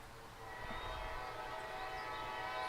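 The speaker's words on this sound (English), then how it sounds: "I can hear that train rolling" A train rolls along nearby tracks, a steady sustained rumble with faint horn-like tones above it, continuous and fairly loud throughout with no talking.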